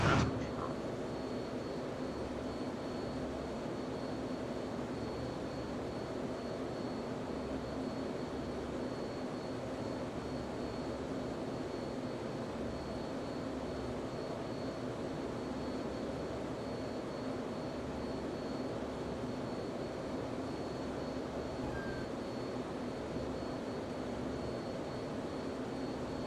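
An F-14 Tomcat's jet engine roars steadily throughout a flight simulator game, a loud, constant drone with no one speaking.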